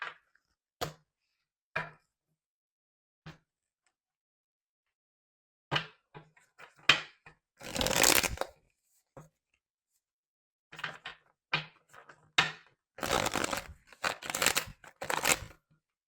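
Tarot cards handled and shuffled close by in a quiet room: scattered dry taps and clicks, then two longer papery riffling bursts with short pauses between.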